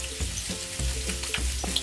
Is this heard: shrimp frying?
yes